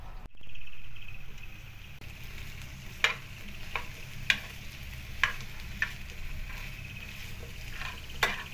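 Chopped onion frying with minced meat in a pan, a soft steady sizzle under occasional sharp spoon scrapes and taps spaced a second or so apart, close, no talking.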